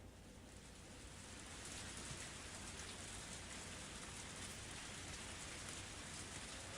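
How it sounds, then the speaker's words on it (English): Pouring rain as an ambient effect in the Higurashi visual novel, a dense, steady hiss of heavy rainfall that rises slightly after the first couple of seconds and fills the scene alone. "Only the sound of the pouring rain filled up the silence."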